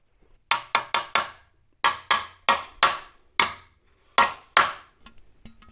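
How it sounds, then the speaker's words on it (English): A hammer taps a rear wheel speed sensor assembly into place on a Hyundai Ioniq, giving about a dozen sharp metallic knocks in quick uneven clusters, close and clear with no talk. "I'm gonna tap that down a little bit there with a hammer."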